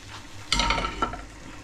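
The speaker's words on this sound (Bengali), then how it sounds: "এই তো আমার মাছগুলো হয়ে গেছে, আমি মাছগুলো একটু এর মধ্যে ঢেলে দিচ্ছি।" Cooked fish tipped into a tomato sour curry in a pan, a sudden clatter and a wet slop followed by a second softer knock, close, over a faint background and no talking.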